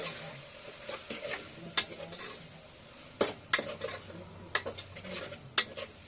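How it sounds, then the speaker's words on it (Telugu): A spoon stirs turmeric through food in a cooking pan, giving soft scraping strokes and a few sharp metal clinks against the pan's side, with faint sizzling underneath and no talk. "పసుపు వేసేసుకుని ఒకసారి అయితే బాగా కలిపేసుకున్నాను"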